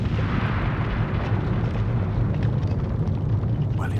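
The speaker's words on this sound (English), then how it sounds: "the whole edifice fell with a mighty crash to the ground" A stone tower collapses with a mighty crash in an animated fantasy film, a loud, sustained, rumbling roar of falling masonry lasting several seconds with no talking.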